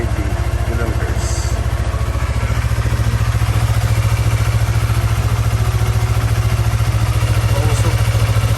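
Yamaha MT-03 motorcycle engine idling steadily after a cold start, a loud, even low throb with rapid regular pulses and light mechanical clatter throughout, close to the bike with no talking.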